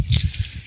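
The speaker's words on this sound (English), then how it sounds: "This water is going too strong." Water rushes hard through the heater core of a 1993 Toyota Tercel during a flush, a brief forceful gushing spray with low sloshing underneath.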